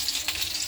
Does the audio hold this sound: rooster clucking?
no